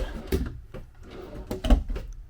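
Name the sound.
wardrobe drawer opening or closing in a Grand Design travel trailer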